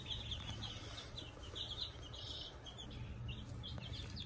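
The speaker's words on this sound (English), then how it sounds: "So this is 5-day-old chicks, and so far they have all survived." Five-day-old hatchery chicks peep in a constant high-pitched chorus, faint and continuous over a low background rumble.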